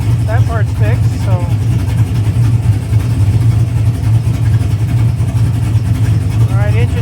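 A Pontiac GTO engine idles with a steady deep rumble while being tuned, nearby and loud, as someone talks over it throughout.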